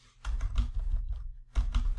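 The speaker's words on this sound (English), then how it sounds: "I'm just going to type in marble" Typing on a computer keyboard: two quick bursts of soft key clicks with a short gap between them, close and fairly quiet, with no one speaking.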